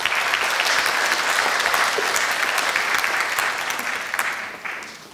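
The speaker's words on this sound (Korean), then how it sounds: "다시 한번 큰 박수로 맞이해 주시기 바랍니다." A lecture audience applauds at a professor's retirement lecture, a loud dense wash of clapping that holds steady and then fades slightly toward the end.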